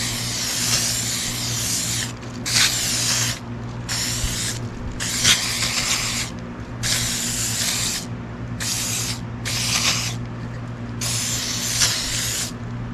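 An aerosol cleaner spray hisses in repeated bursts of a second or so each onto greasy jet ski engine parts, separated by short pauses, over a steady low mechanical hum nearby.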